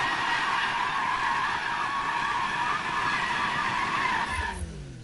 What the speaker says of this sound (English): I like the sound of this Toyota Supra. It's very loud.